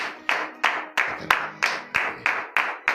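A congregation at a Friday morning prayer service in Benin claps in acclamation, a steady rhythmic beat of about three claps per second, fairly close and clear, with no voices over it.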